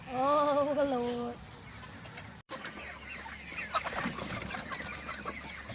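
Farm chickens cluck and call nearby, a clear pitched cackle at the start giving way to scattered clucks and rustling during morning chores, with people talking in the background.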